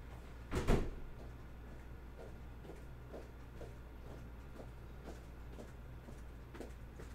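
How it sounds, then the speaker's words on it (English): A door is shut once with a short, muffled thud near the start, followed by a quiet room with a faint steady hum and occasional soft ticks. "And I shut my door."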